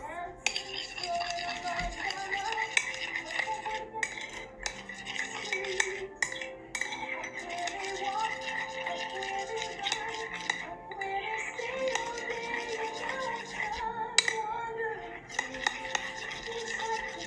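A utensil stirring drops of food coloring into homemade mermaid slime, making continuous rapid scraping and clinking against a container, close and steady throughout, with no speech.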